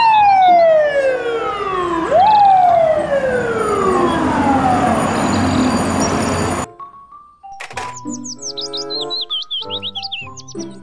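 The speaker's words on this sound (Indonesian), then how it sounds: "Mobil truk pemadam kebakaran." A toy fire truck gives off an electronic siren: repeated falling wails, loud and close, that cut off abruptly and give way to shorter chirping, bird-like electronic tones.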